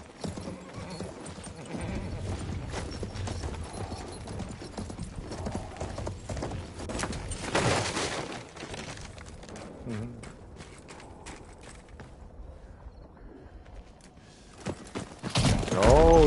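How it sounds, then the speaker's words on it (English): Rhythmic clip-clop of horse hooves trotting steadily in Battlefield 1, with a brief whinny, over a busy game soundscape with occasional talk. "They left us a horse to get back to Bess"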